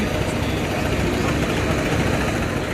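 Engine of the river launch Farhan 7 pulling away slowly in reverse gear on the Dhaka launch service, a loud, steady, dense rumble that continues unbroken throughout.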